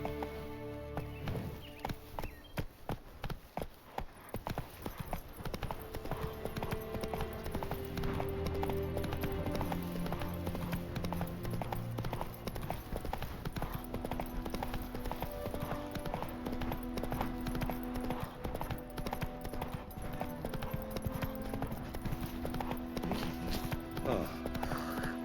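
Roach, the horse in The Witcher 3, gallops in a steady, rapid clip-clop of hooves that runs throughout, layered with game music and occasional faint voice.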